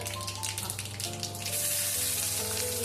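Onions frying in a pan with chopped kanthari chili for a spicy beef dish, a bright sizzle and crackle close by, steady throughout with music playing underneath.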